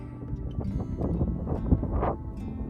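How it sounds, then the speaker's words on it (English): Strong wind buffeting a lavalier microphone at a lake shore in Falcon State Park, Texas, gusty rumbling blasts rising and falling over a few seconds, no speech. "Wind's whipping, so I have my lavalier mic on."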